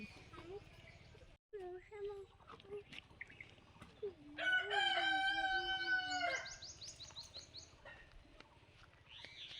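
Hens clucking close by, then a rooster crows loudly in a long call, with voices talking nearby.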